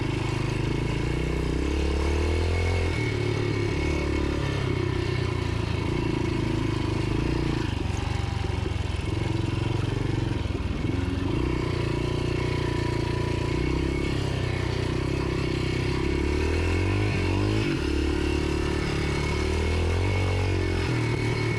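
A Yamaha XT 500 motorcycle is ridden across farmland, mostly in first gear and sometimes second, on slippery ground. The engine drones steadily and loudly throughout with small revving swells, and a voice speaks briefly over it.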